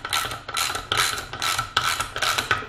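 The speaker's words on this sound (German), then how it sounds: "Jetzt nehmen wir die Ratsche." A ratchet tightening screws on the brake caliper of an Aprilia Leonardo 150 scooter, giving six rhythmic bursts of close, loud clicking with no talk.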